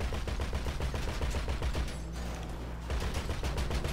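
Steady, dense gunfire in GTA V, close and loud, with rapid shots layered over a constant rumbling mechanical drone, and no voices.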